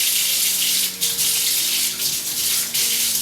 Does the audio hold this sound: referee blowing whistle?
no